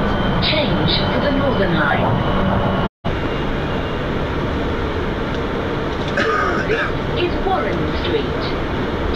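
A London Underground Victoria Line train running between stations, a loud steady rumble and roar filling the whole clip with a brief dropout near the middle, and faint announcement-like voices in places.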